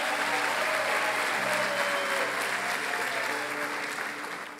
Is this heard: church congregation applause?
yes